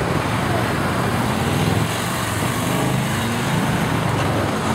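A Victory police motorcycle runs a motor officers' competition course in Portland, Oregon, its engine a steady, continuous drone at moderate distance with no clear gaps or sharp revving peaks.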